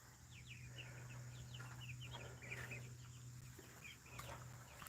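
A flock of chickens that includes a silkie clucks softly and keeps up faint, overlapping chatter over a steady low hum of background noise.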